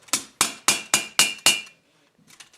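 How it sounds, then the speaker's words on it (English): Steel gauntlet plates for a circa-1450 Milanese mitten gauntlet, already riveted and overlapped, struck together with a hammer: six sharp, ringing metallic blows in an even rhythm, close and loud, then a few faint taps. "And carefully hammer the pieces together."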